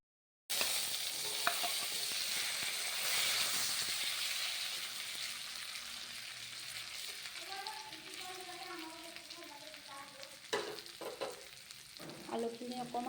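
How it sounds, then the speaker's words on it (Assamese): Potatoes frying lightly in hot oil in a wok, a continuous close sizzle with occasional stirring scrapes and clatters toward the end. "এতিয়া তেলখিনি গৰম হ'লে আলুখিনি অকণমান লাইটলি ফ্ৰাই কৰি লোৱা হ'ব।"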